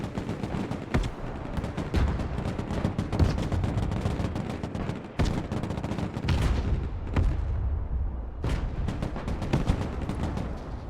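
Units open fire in the Broken Arrow war game: sustained rapid gunfire with machine-gun bursts and heavier booming shots, dense and continuous, tailing off briefly before resuming.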